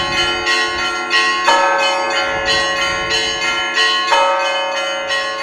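Church bells, cast on Valaam, ring out loudly at New Valaam monastery in Finland with rich, overlapping tones, fresh strikes landing every second or so while the earlier ones keep humming.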